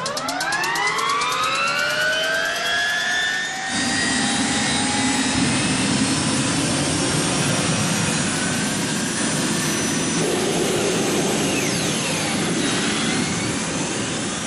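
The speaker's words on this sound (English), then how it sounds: "the y2k makes a sound signature unlike anything else on wheels" Y2K turbine motorcycle engine spooling up with a rising jet-like whine that settles into a loud, steady turbine roar and hiss, continuous and close throughout with no talking.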